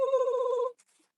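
A short electronic phone text message alert tone with a steady, bright ringing quality lasts under a second, then cuts off into near silence.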